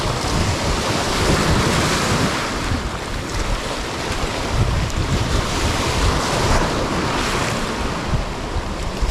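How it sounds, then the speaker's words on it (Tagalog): Big ocean waves surge and crash against a rocky shore in a continuous loud roar, with gusting wind buffeting the microphone throughout. "Ay, grabe yung alon."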